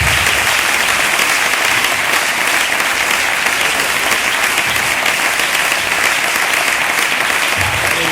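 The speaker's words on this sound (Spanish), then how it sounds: "denle el mejor aplauso que tengan para ella." A church congregation at a convention gives loud, sustained applause, with dense continuous clapping filling the whole stretch without letting up.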